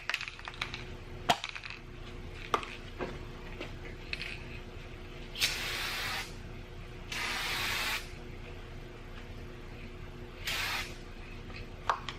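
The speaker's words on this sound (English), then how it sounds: "I'll put the clear coat on the logo." Clear coat sprayed onto the logo of a restored 1960s DeWalt radial arm saw, three hissing aerosol bursts of a second or two each, separated by small clicks and handling noises.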